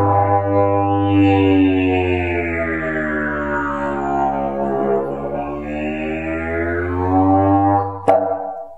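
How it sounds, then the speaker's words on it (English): A low, droning brass-like tone from a didjeribone, a didgeridoo-trombone hybrid, with a buzzing didgeridoo timbre, sustained for several seconds while its overtones sweep up and down, ending with a sharp click. "It's a hybrid cross between the ancient didgeridoo and the trombone."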